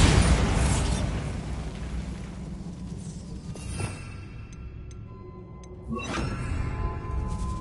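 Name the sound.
Bombarda blasting spell explosion in Hogwarts Legacy video game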